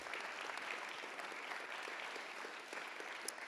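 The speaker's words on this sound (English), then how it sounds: "Yes, you can please clap for him." Steady applause from an audience honoring self-taught artist Fulton Leroy Washington, known as Mr. Wash, a dense even patter of many hands filling the whole stretch without voices.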